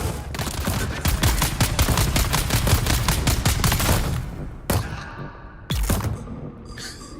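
Rapid turret gunfire in Dune Awakening, a long fast stream of loud shots for about four seconds, then two separate sharp blasts after short pauses.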